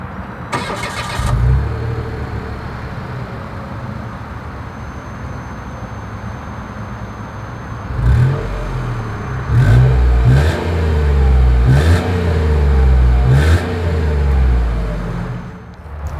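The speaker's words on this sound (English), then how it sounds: "As always, here is that exhaust clip." A 2023 Mitsubishi Mirage G4 sedan's exhaust recorded up close from behind: a short starter crank, a steady idle, then several rising revs with bursts of throttle that settle back down to idle.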